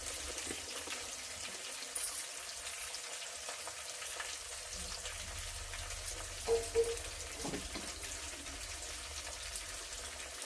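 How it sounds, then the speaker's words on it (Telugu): Bitter gourd pieces frying in oil for a pickle, a continuous even sizzle with a few light clinks of stirring, steady and close with no talk. "ఇలాగా ఎంతవరకు వేయించాలంటే కొంచెం ఈ ముక్కలు మెత్తబడేంత వరకు వేయిస్తే"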